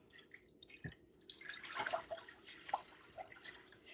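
Faint trickling and splashing water being poured into a pot, close by and quiet with no voices.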